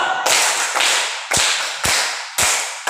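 Five crisp hand claps, evenly spaced about half a second apart, each snapping loudly and ringing briefly in an echoing room with no talking.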